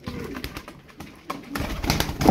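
Tumbler pigeons coo softly and repeatedly at close range, mixed with fluttering and shuffling noises that grow busier toward the end.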